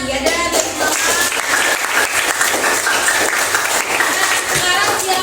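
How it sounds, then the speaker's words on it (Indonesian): A classroom audience applauds steadily through the whole stretch, a dense, even wash of many hands clapping close by, with voices faintly mixed in. "Oh, tepuk tangan"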